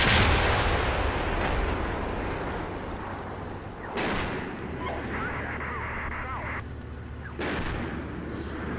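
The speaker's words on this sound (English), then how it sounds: "Mortar fire mission is complete." Mortar artillery fires in the Steel Beasts tank simulation game during a 1987 multiplayer river assault. Three heavy booms land several seconds apart, each followed by a long rolling rumble over steady background noise.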